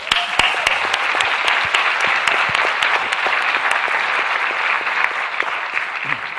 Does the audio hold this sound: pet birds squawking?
no